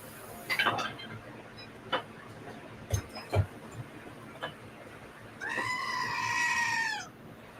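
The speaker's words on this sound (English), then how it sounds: "I know the sound of goats." A goat bleat, likely a ringtone, sounds during a Pathfinder game session: a few scattered soft clicks and knocks, then one drawn-out, wavering bleat of about two seconds near the end.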